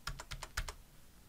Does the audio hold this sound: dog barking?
no